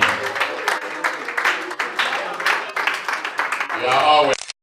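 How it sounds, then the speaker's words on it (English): An audience at a community meeting claps hands in fluttering bursts, loud and uneven, with voices rising through it and a sharper swell of sound near the end. "Please, can you clap your hands with that clapping?"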